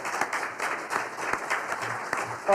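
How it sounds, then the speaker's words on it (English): Sustained audience applause fills a hall after a university library panel discussion, a dense and continuous patter of many hands that stays level from start to finish. "Please, a round of applause for our wonderful panelists."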